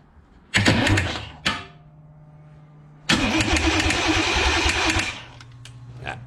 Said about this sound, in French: Est-ce que ça démarre déjà?